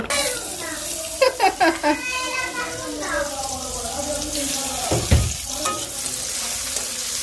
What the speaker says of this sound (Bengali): বেশি তেল দেবো না হালকা তেলে রান্না করবো